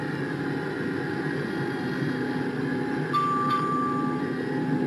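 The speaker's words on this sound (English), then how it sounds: "Now the train is warning her because it's over speeding." An over-speeding train sounds a brief, steady warning tone in the second half, heard over a continuous low rumble and rattle of the carriages; no one speaks.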